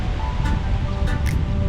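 Ocean waves wash onto a sandy beach in a steady, close surf roar, with light wind noise mixed in and no voices.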